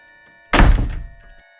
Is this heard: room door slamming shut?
yes